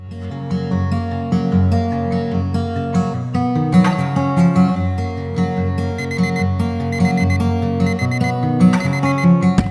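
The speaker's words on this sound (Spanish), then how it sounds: "Suena la alarma y él se despierta tras bostezar" An alarm clock ringing, a loud repeating electronic melody of bright tones sounding continuously, close and alone without any voice.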